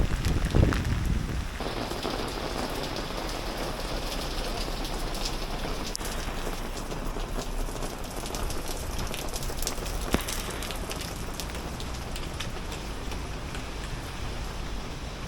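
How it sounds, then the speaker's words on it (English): Heavy rain pours in Taipei during Super Typhoon Doksuri, a loud, constant close-up hiss of water hitting surfaces that holds steady the whole time, with a few brief knocks and gusty rumbles near the start. "It's just been raining for an hour"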